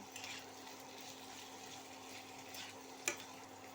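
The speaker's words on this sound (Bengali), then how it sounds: "এই 4টে পেঁয়াজ এমনি করে কেটে ওর মধ্যে দিয়ে দিলাম, দিয়ে এটা একটু আমি ভেজে নিচ্ছি" Onions and capsicum frying in a pan give a steady, soft sizzle throughout, with a low mains hum underneath and one sharp clink of a utensil near the end.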